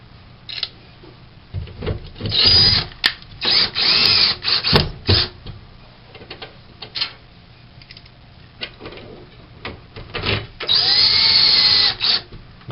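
A power drill drives screws through a closet tower bracket into wall anchors, with several loud whirring bursts of a few seconds each, separated by quiet pauses and small handling clicks.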